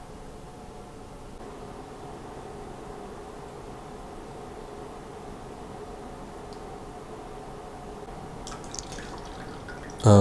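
Hydrosol drips steadily from an oregano essential oil distiller, soft and continuous over a low background hiss, with a brief louder knock at the very end.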